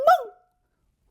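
A dog barking in an animated story: one short, sharp bark-like yelp that ends abruptly and is followed by silence, voiced by a person imitating a dog.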